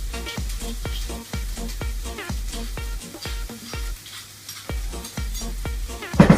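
Garlic sizzles in a hot pan under a spoon that scrapes and stirs it in a quick, regular rhythm of sharp strokes, with a louder clatter at the end.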